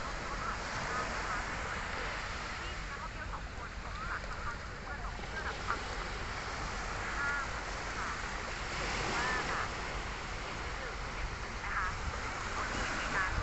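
Sea waves wash steadily along the coast at Rayong, Thailand, a constant broadband rush at moderate distance with faint bird calls and occasional distant voices mixed in.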